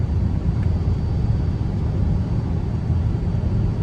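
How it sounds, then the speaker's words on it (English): Low steady humming from a suspected worn wheel bearing on a Dodge Journey R/T cruising on a winter road, a continuous droning rumble with road noise and no talking. "You'll hear a little bit of a humming in the background. Possibly that's a wheel bearing."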